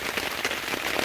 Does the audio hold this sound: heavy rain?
yes